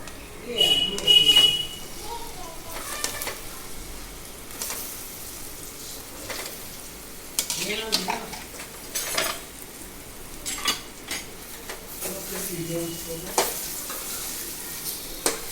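Curry leaves, asafoetida and turmeric sizzle in hot oil as a tempering for dhokla, with a steady frying hiss, occasional utensil clinks and stirring, and a person talking over it.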